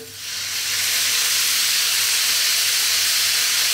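Dark soy sauce hitting a hot pan with braising pork belly and shiitake mushrooms, a loud steady sizzling hiss that swells quickly and holds, close up and without talk.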